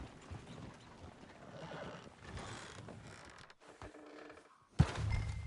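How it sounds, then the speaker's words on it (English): Horses neigh and clip-clop in the video game Red Dead Redemption 2, soft hoof steps and rustling building to a sudden loud whinny near the end. "Oh, shit, the horses!"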